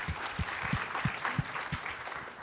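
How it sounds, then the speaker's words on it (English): Brief scattered clapping from a small group, a handful of separate claps rather than a full ovation, fairly quiet and lasting only a couple of seconds. "give a round of applause for May"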